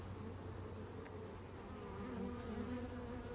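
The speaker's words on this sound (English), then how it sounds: "This frame is packed full of bees as well." A dense, steady hum of many bees swarms around a packed beehive frame, close and continuous with a high whining drone and no voices.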